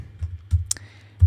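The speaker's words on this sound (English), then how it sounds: "I'll type in a password here" A password being typed on a computer keyboard: a few quick, soft, close keystrokes, irregularly spaced, in a quiet room with no talking.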